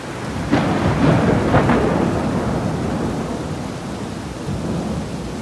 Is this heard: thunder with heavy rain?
yes